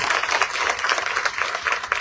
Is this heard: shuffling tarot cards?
no